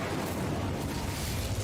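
An Incendio fire spell is cast in a wizard video game: a loud, steady roaring rush of flame-like noise lasts under two seconds with no talking.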